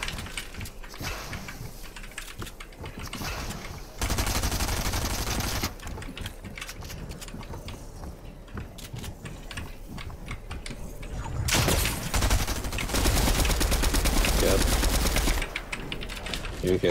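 Shotgun fire in Fortnite, heavy blasts and rapid mechanical clatter in loud bursts, with game noise and occasional talk over it.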